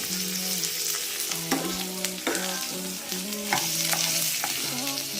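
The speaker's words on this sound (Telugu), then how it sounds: "అందుకని ఇట్లా కొద్దిగా కొద్దిగా డీప్ ఫ్రై చేయాలి" Taro (colocasia) pieces deep-frying in oil give a steady, loud crackling sizzle, broken by a few sharp clicks and scrapes from a utensil.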